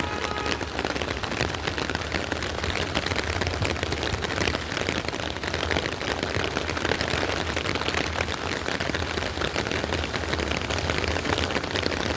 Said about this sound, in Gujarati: ઝરમર ઝરમર વરસાદ આવી રહ્યો છે